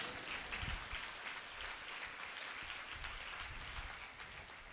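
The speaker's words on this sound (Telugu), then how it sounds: "మహిమపరచుకుని గట్టిగా చప్పట్లు కొట్టుకుంది." A church congregation at an open-air gospel meeting in Meduru claps together in a sustained, dense wash of applause, heard from a distance and fairly faint, with no clear speech over it.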